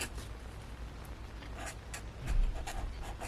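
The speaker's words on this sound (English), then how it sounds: "So here I'm just gonna write" A pen writing on a planner page makes a soft, steady scratching close up, with a slightly firmer stroke near the middle.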